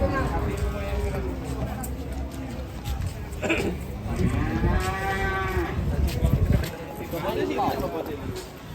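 Several cows moo loudly nearby while being unloaded from a truck, long drawn-out calls overlapping one another, with some background chatter from people.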